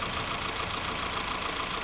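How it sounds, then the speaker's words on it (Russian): A 2006 Kia Picanto 1.0-litre G4HE engine idles with a constant, even mechanical drone and fine ticking texture, close up and steady throughout with no speech. "Работа двигателя на холостом ходу."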